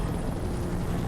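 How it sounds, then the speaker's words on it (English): A helicopter in the horror shooter game F.E.A.R. gives a steady, dense rotor and engine roar that fills the whole short stretch with no voices. "Oh, helicopter. Get me out of here."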